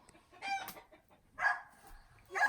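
Backyard hens cluck and squawk in short bursts from their night roost, three loud close calls at a farm coop with quieter murmuring between them.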